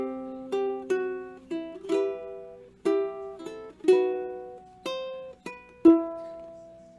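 Fingerstyle ukulele plays a short passage from O Holy Night, with plucked notes and chords ringing out one after another in a slow, gentle rhythm, close and clear with no talking.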